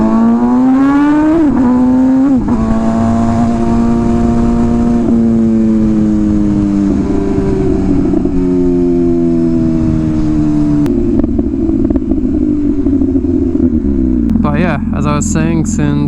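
An MV Agusta Rush motorcycle engine revs up through the gears, its pitch climbing and dropping in loud, close surges, with a voice talking over the engine noise.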